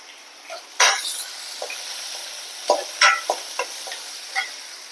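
Chopped shallots fry in a pan with a soft hiss while a spoon stirs and taps against the metal in several sharp, irregular knocks, close by and with no voices.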